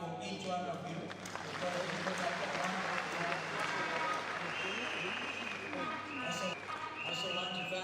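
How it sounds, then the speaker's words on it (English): Applause fills an election rally where thousands of delegates have gathered in a stadium to endorse a presidential candidate, with a dense, continuous wash of clapping that holds steady for several seconds and loud crowd noise mixed in. "I think we need to clap for each one of you"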